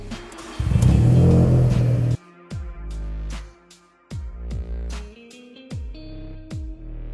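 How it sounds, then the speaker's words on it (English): A Volkswagen Polo 1.0 TSI engine starts with a burst of cranking and a roar, then settles. Sharp, repeated clicks follow over the low engine hum. "So we'll first enter Mapswitch mode 1 and start the car."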